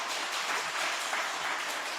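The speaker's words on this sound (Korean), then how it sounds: "아유, 박수까지 받을 일인가 싶은데." A Korean church congregation at a Thanksgiving Sunday afternoon service applauds its newly ordained pastor with an even, continuous wash of clapping across the short stretch.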